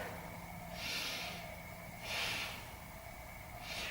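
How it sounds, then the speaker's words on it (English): Three slow, deep breaths are drawn and released through the nose while holding a yoga plank, each a soft breathy rush rising and falling at an even pace, close and quiet. "Take 3 big breaths"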